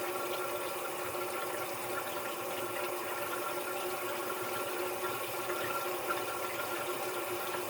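Water runs from a household tap during a test of a Frizzlife LP365 smart water leak monitor, a steady, moderately loud rushing flow that holds even for several seconds with no speech.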